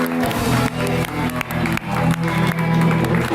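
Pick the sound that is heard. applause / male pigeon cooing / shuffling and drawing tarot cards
applause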